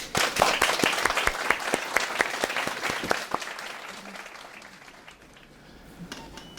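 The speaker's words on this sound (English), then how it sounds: "Please give them all a round of applause." Audience at a swearing-in ceremony applauds, a dense burst of clapping that starts loud and gradually thins out and fades over several seconds.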